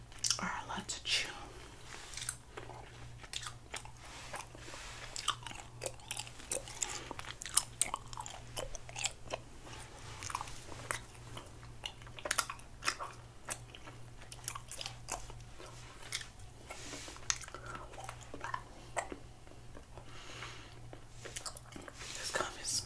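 Gum chewed close to the microphone in an ASMR setting, with steady moist smacking and soft crunchy bites running throughout, mixed with occasional faint whispery breaths over a low constant hum.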